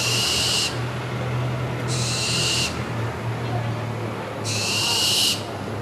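A barn owl family calls at night from a nest above drain pipes at an apartment in Kolkata: three long, harsh hissing screeches come one after another, loud and close over a steady background hum.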